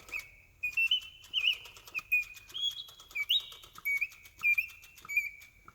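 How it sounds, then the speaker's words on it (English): A wind-up clockwork automaton bird in a cage sings a rapid series of bright, warbling chirps and trills in short bursts, with a faint mechanical whir beneath, fairly close and alone. "It's a clockwork automaton bird in a cage."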